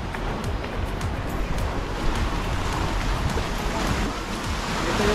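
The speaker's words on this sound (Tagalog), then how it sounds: "Kasi doon, malakas yung alon." Strong ocean waves off a cove near Boracay during island hopping, surf rushing steadily and loudly throughout, broad wash with wind buffeting the microphone and faint voices in the background.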